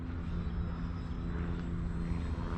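A RACores Yak 55 RC model airplane flies with a continuous, even engine drone that holds at a moderate distance with no talking.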